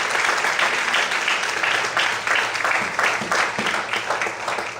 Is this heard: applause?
yes